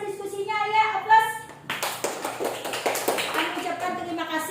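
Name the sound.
classroom audience applauding a group presentation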